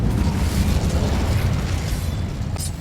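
A fiery burst from the Incendio spell in the video game Hogwarts Legacy, a loud rumbling whoosh of flame that holds steady, then fades slightly, ending with a faint bright crackle.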